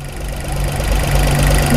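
A Suzuki R06A three-cylinder, 12-valve all-aluminum engine in a mini van runs steadily at idle, producing a loud, close, continuous low hum with a faint knocking texture and no voices.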